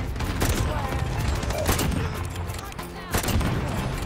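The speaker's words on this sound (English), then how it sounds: "I'm getting shot at." Dense rapid gunfire from a video game, continuous bursts and volleys loud throughout, with people talking over it.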